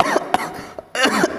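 A few sharp, close coughs in quick succession, a short burst, a brief pause, then more harsh coughs, loud and alone.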